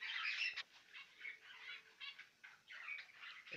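Adult finches in an aviary chirp in faint, rapid, twittering bursts, with a few brief flutters and squawks among a busy cluster of small birds.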